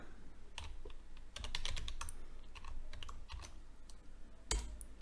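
Fingers type sample text on a computer keyboard in quick, uneven bursts of sharp key clicks, close and clear, with short pauses between flurries and a heavier thump near the end.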